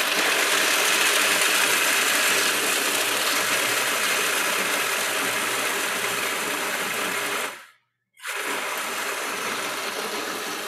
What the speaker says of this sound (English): So you want to kind of grind that up to make a paste